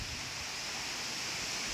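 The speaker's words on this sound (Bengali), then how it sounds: "এদিক থেকে এখন বাতাসও উঠছে এবং বৃষ্টিও হচ্ছে প্রচুর পরিমাণে" Heavy rain with rising wind, a dense, even roar of downpour filling the whole clip at constant loudness with no breaks and no voices.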